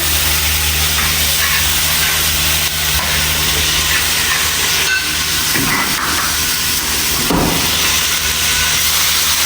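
Loud, steady sizzling hiss of food frying in a hot wok, with a few clattering stirs and scrapes.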